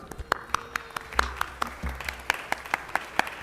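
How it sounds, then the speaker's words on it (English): A crowd at a Los Angeles city council meeting applauds with sharp, separate claps standing out near the front, steady and moderately loud for a few seconds. "So let's give him a round of applause."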